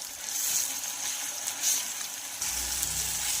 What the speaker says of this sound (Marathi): तर वाटण सुद्धा अशा पद्धतीने मी छान असं फ्राय करून घेतलेलं आहे